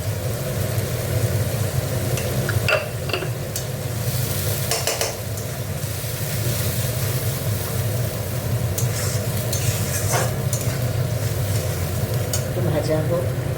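Sliced onions fry with ginger, garlic and a little salt in a pan, a steady sizzle broken by repeated scraping and clinking of a spatula against the metal.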